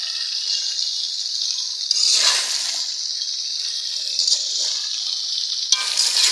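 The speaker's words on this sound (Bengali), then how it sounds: "সরষে বাটা দিয়ে ভালো করে নেড়ে নেব।" Raw mango chutney frying in a pan as mustard paste is stirred in, giving a steady, loud, close hiss with a few brief swells of louder bubbling as the mixture is moved.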